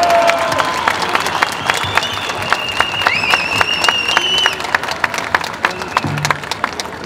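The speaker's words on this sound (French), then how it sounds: "vous pouvez les applaudir" An outdoor crowd at a national protest march in Paris applauds volunteers, scattered clapping and cheers with whistles and shouts carrying over the open-air din.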